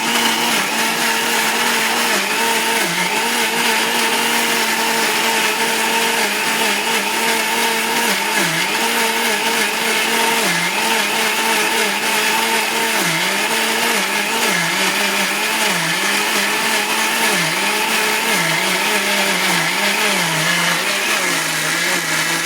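A wet grinder churns idli dosa batter with a loud, continuous motorized whir and rumble. The pitch wobbles and rises and falls as the stone rolls through the thick batter, and no voices are heard.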